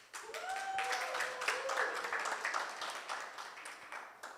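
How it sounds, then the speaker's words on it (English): Audience applause at an art awards show, a steady wash of many hands clapping that starts abruptly and holds fairly evenly, with a few voices and cheers rising faintly over it. "Round of applause."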